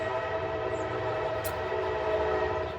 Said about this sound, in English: This is like every hour. This stupid train.